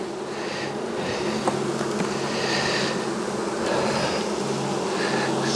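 Honey bees hum steadily in an open hive during a late-season colony check, a close, dense buzzing drone that holds throughout with no speech.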